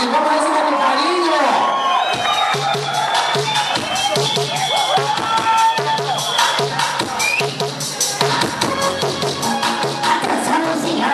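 Nightclub audience applauding and cheering at a drag show in Rio Preto, loud sustained clapping with whoops and shouts, and a presenter's voice heard over the noise.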